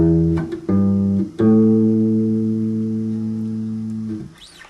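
A bass guitar plays a C pentatonic scale, with a few deep, sustained plucked notes stepping upward one after another, each ringing clearly before the next, alone and close.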